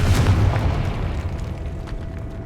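A Confringo explosive spell blast goes off in Hogwarts Legacy, a single loud, close boom whose heavy low rumble decays steadily over about two seconds.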